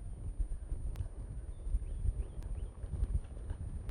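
Hooves of a cutting horse working a cow on a cow-horse ranch, steady low thuds and clip-clops at close range, with light wind and no talk.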